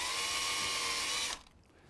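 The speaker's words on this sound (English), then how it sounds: "pre-drill for our screw hole to hold the paddle on." A power drill pre-drills a screw hole in a wooden foosball paddle held in a clamp. A steady high motor whine runs close and loud for just over a second, then cuts off abruptly into quiet.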